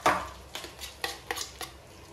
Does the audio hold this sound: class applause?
no